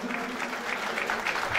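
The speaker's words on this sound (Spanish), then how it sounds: "aplauso para Michelle Galvis." Sustained applause from an audience at a fourth-anniversary awards show, a dense, steady wash of clapping filling the whole stretch without a pause.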